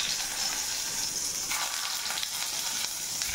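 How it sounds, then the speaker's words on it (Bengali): Boiled potatoes frying in hot oil in a wok give off a steady, close sizzle with faint crackles and stirring scrapes, with no talking. "একটা কড়াইয়ে তেল গরম করে নিয়েছি, ওখানে আমি আলুগুলো একটু সেদ্ধ করা আলুগুলো একটু ভেজে নেব।"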